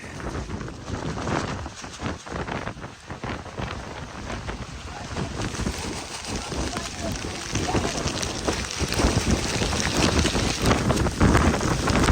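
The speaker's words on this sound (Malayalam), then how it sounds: "കാറ്റാണ് അടിപൊളി കാറ്റാണ്" Strong wind at the Kakkadampoyil hilltop buffets the microphone in a steady, loud roar that swells toward the end, with faint voices in the background.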